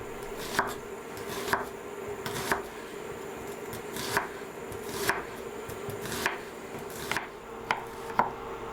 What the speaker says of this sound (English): let's get the clove of garlic finely sliced. Then we'll split the banana shallot in half and then finely slice that as well